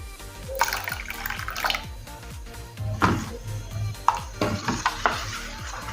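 Water is added a little at a time to a batter of soaked ground parboiled rice in a kitchen, with splashing, stirring and clinking in irregular close bursts.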